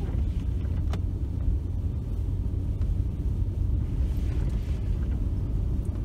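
A car drives past on a snowy road at night, a steady low rumble of engine and tyres that holds evenly throughout without a sharp peak.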